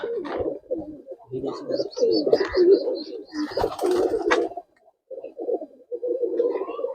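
Several Murshidabadi tumbler pigeons coo close by in repeated throaty bursts, with a short pause before the cooing resumes.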